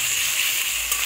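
Pieces sizzle steadily in a hot pan with oil after salt and turmeric are added, a loud, continuous hiss heard on its own.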